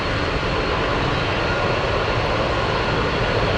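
A UPS Boeing 747-8 jet roars with a loud, steady broadband engine rush throughout, with no voices over it.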